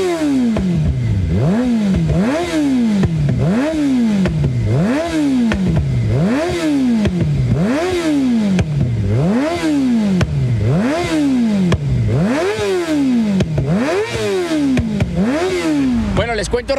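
A Suzuki GSX-R 600 sport motorcycle revs again and again, about ten sharp throttle blips that rise and fall in a regular rhythm, loud and close.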